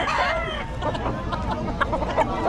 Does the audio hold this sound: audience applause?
no